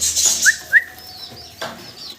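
Pigeons at a pigeon farm, with several short chirps and squeaky calls close by against quiet background noise, no talking.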